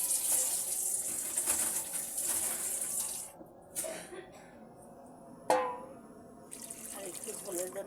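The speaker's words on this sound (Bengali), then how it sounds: "একটু ঝোলের জন্য পানি দিয়ে দেবো।" Water pours from a tap or jug into a kadai of fish and eggplant curry to make gravy, a steady near splashing stream that stops briefly midway, followed by a few clinks.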